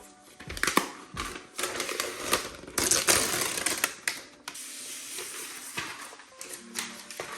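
Packaging being unwrapped from a new 2025 M4 MacBook Air 13-inch, close crinkling, tearing and rustling in uneven bursts, fairly loud with no talking.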